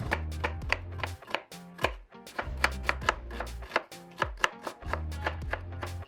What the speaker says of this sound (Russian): Средними кусочками порежу лук.